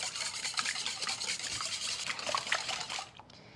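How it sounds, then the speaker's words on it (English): Eggs being whisked in a bowl for a pumpkin pie filling, a steady rapid scraping and rubbing rhythm that stays close and clear, with no talking, and it stops abruptly near the end. "just gonna whisk these to break them up"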